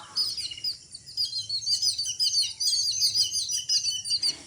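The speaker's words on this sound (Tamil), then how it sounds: "இந்த பாம்புக்கிட்ட வந்து பார்த்தீங்கன்னா நிறைய தவிட்டுக்குருவி வந்து கூட்டமாக நின்று கற்று கற்றுன்னு கற்றுச்சிங்கப்பா" A flock of babblers mobbing a snake, many harsh chattering calls overlapping in a busy, continuous clamour close by, with no voices.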